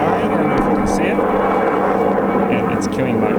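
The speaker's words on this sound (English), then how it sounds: "That's a helicopter flying" A helicopter flies overhead near a Toyota MR2 mk1 AW11, its steady droning rumble filling the background while someone talks over it.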